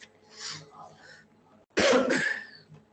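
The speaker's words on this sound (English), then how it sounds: "I'll be coughing now and then due to a very bad weather condition" A faint murmur of talk gives way to one harsh, close cough with a raspy throat-clearing quality.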